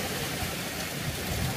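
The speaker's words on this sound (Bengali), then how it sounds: "বৃষ্টির দিন এসে গেছে, রাস্তায় বের হওয়ার সময় হইলে বৃষ্টি নামে" Rain pours steadily during a windy storm, a dense unbroken hiss of falling water that stays loud throughout with no voices.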